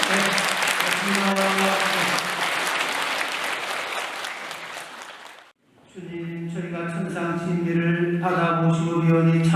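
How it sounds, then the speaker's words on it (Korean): A church congregation at a Sunday welcome Mass for a new parish priest applauds in a loud, sustained burst. It drops out briefly and then resumes as a second long round, with voices audible beneath. "오신 분들 위해서 박수 한번 주실요"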